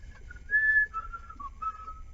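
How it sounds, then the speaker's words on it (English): Someone whistles a short, wavering melody, soft and close, with a few held and sliding notes over a quiet background. "I better not whistle."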